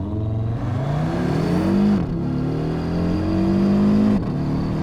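A 2020 Audi RSQ3 Sportback engine revs up twice, rising in pitch with a smooth, warbling five-cylinder tone, then drops back, heard close with no talking.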